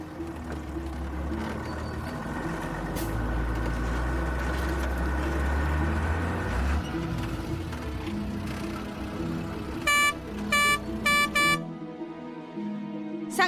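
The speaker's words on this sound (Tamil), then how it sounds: "தண்ணி லாரி வந்திருக்கு பாரு." A water tanker lorry rumbles in steadily, with its engine noise fading after the first several seconds. Three or four short, loud horn blasts follow near the end, then the sound cuts to quiet. No one speaks.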